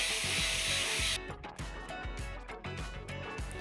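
Electric manicure drill removing nail coating at around 30,000 rpm: a loud steady high whine that cuts off, followed by close irregular scraping and grinding of the bit against the nail.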